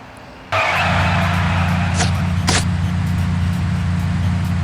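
A car in the Sam and Max adventure game starts up abruptly and drives on with a steady loud engine hum, with two short sharp tire squeals partway through.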